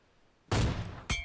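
Gunfire in the mobile battle royale game BGMI: a loud, sustained burst of shots lasting about half a second, a short pause, then a second brief burst, with no talking over it.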